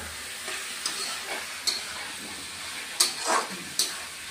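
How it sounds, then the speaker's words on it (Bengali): Ash gourd being sautéed with spices in a pan gives a soft, steady sizzle, broken by a few sharp clicks and scrapes as the spatula stirs, quiet and close with no talking. "দিয়ে এখন বন্ধুরা মশলাগুলির সাথে সবজিটা কষিয়ে নিব।"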